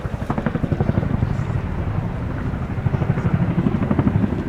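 A Royal Air Force Boeing Chinook HC6 twin-rotor helicopter performs a flying display at an airshow, its heavy rhythmic rotor thump loud and steady throughout, with wind buffeting the microphone.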